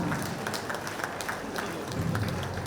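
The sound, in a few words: audience applause at a rally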